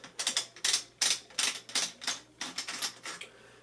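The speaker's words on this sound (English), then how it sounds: "just gonna take off this nut here, kind of like a lid." Metal nut cap being unscrewed from the magazine tube of a Winchester Super X2 semi-automatic shotgun during cleaning, giving a run of close, crisp clicking and rasping turns in quick irregular bursts, with no talking.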